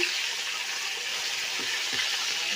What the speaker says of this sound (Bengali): গরম তেলে ছেড়ে দিলাম